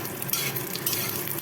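Dried lentil dumplings (dal bori) frying in a pan of oil beside poppy seeds, with a dense close sizzle broken by scraping stirs and brief louder crackles, no voices.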